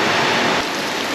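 Rain shower pouring down in a dense, steady hiss of countless drops hitting surfaces, loud and close throughout a brief stretch with no voices.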